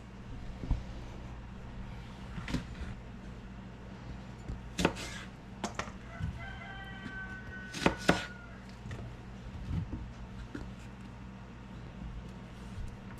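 A knife slicing okra pods in half on a cutting board, giving a series of sharp, isolated cuts and taps spaced a second or two apart, close and fairly quiet against a soft background hum.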